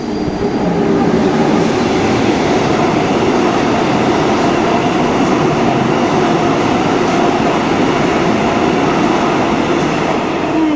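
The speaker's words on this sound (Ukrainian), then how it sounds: "поїзд." A train passes close by in France, a loud, continuous roar of rolling wagons with rattling wheels and a faint squeal, steady for about eleven seconds with no talk.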